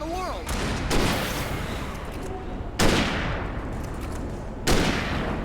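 Gunfire in the video game Alan Wake Remastered: three heavy shots land about two seconds apart, each with a sharp crack and a decaying boom, over a constant dense wash of game noise.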